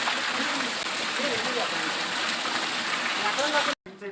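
Water runs near the Punyagiri hill temple in a loud, continuous splashing rush, with faint voices murmuring underneath before a sudden short cut at the end.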